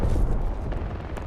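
A frag grenade detonates in a video game, a dense, loud boom with rumbling low-end energy filling the whole short moment, no speech over it.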